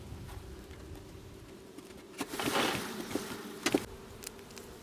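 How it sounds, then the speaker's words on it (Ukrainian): Honey bees buzzing over a hive frame during autumn nest reduction and winter preparation, a close, continuous insect drone with a few louder swells and brief crackling handling noises. "Ще у нас є ось така рамка з бджолою."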